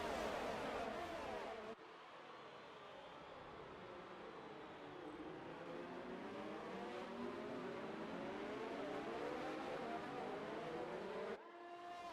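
Formula 1 race cars in the F1 2019 game at Italy launch off the grid together, a loud dense swarm of high-pitched engine whines rising and overlapping steadily, with a brief quieter dip early on and the pack sound continuing throughout.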